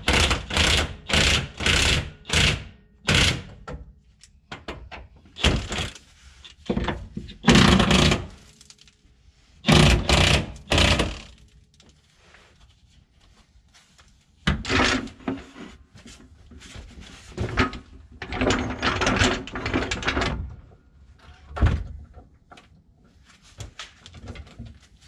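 A ratchet breaks loose the fuel tank strap bolts on a GMC Yukon Denali, giving close, rapid clicking bursts separated by short pauses, with occasional metallic knocks in between.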